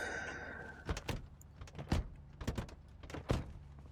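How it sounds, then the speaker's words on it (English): A car door closing and latching in the video game Project Zomboid, followed by several sharp, close thunks and clicks in an irregular sequence. "I like the door sound on that car."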